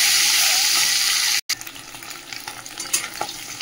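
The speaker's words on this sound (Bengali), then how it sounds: "ডিমটা ভেজে নিই" Egg frying in hot oil in a home kitchen, a loud sizzling hiss that cuts out briefly, then returns softer with crackles and spattering pops, close up and with no speech.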